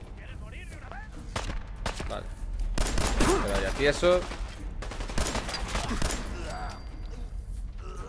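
Bursts of rapid Fallout 4 gunfire crackle in clustered volleys, with a voice talking over parts of it.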